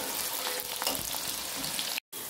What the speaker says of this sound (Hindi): प्याज को थोड़ा सा फ्राई करना है हमने, ताकि इसका गोल्डन सा कलर आ जाए।